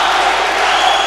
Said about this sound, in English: Screaming from the crowd.